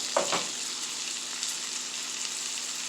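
Top sirloin cut from a roast sears in butter with garlic, giving a soft, even sizzle and hiss throughout, with a brief clatter near the start, close but fairly quiet and without any speech.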